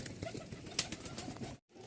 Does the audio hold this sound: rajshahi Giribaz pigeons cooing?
yes